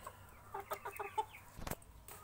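An American Silkie rooster gives a faint run of soft, quick clucks, followed by a brief muffled thump and quiet background.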